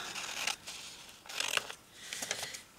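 Scissors cutting through craft material: several short snipping bursts, close and fairly quiet, spaced irregularly with brief pauses between cuts and no talking.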